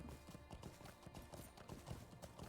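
Horses on pet steed harnesses in the fantasy online game LOTRO clip-clop steadily, a soft continuous patter of hoofbeats with no talking over them.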